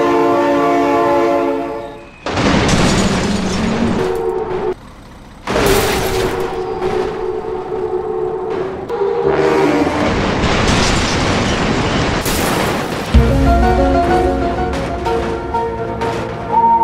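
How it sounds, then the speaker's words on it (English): A train rumbles past while its horn blares in several long, loud blasts separated by short gaps, the steady roar of the cars running underneath throughout. "Oh my God, train!"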